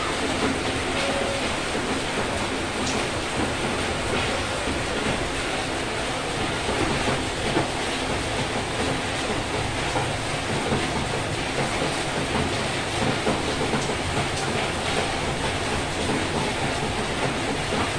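Amulet stones fizzing as they sit in vinegar, a steady, dense hiss of tiny bubbles that runs evenly and without pause for the whole stretch, with no talking.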